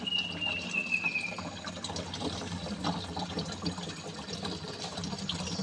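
Clean spring water from a natural bukal trickling and splashing steadily, a soft continuous wet patter heard close by with no talking.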